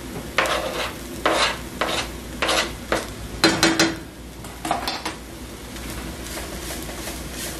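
Garlic frying in a pan hisses under a series of rhythmic scraping stirs, about eight strokes of a utensil against the pan, then settles into a steadier, softer sizzle close by.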